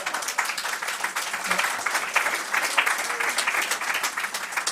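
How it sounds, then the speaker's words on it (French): A seminar audience at a forum debate on seniors at work applauds steadily, a dense, even wash of clapping that holds for several seconds without a break. "Non, vous l'applaudissez"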